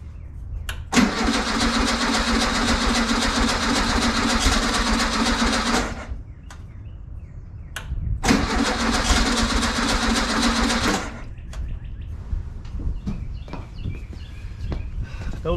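VW engine with a PICT 34 carburetor on an EMPI spacer, cranked by the starter in two long, loud, steady bursts of about five and three seconds each, with quieter clicks and shuffling between and after, failing to catch.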